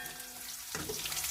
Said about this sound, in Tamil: எண்ணெய் ஊற்றி கடுகு போட்டு பொரிஞ்சதும் பூண்டு ஒரு கைப்பிடி போட்டுட்டு சின்ன வெங்காயம் ஒரு கை